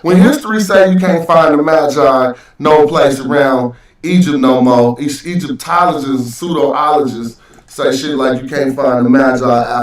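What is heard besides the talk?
No everyday noises stand out.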